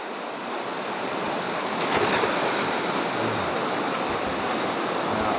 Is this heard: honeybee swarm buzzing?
no